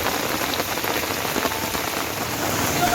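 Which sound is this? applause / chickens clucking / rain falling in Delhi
rain falling in Delhi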